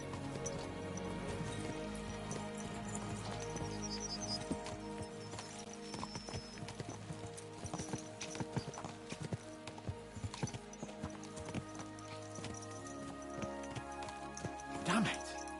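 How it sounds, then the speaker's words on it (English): Horse hooves clip-clop steadily at speed in the medieval game Kingdom Come: Deliverance 2, a dense rhythmic clatter running throughout with a whinny near the end and some voice-like sounds over it. "Let's really spur these horses on, eh?"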